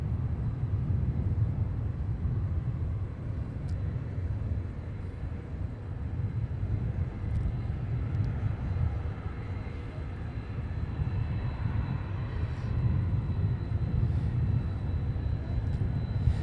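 Airplane carrying President Trump landing at Palm Beach out of the west, a steady distant low engine roar that holds evenly throughout with no talk.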